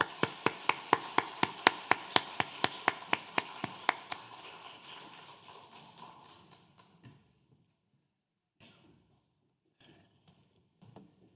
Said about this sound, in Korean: 나오실 때 뜨거운 박수로 환영하겠습니다.